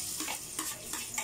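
Garlic sautés in a pan with a soft, steady sizzle and a few light stirring scrapes, brief and fairly quiet, with no voices.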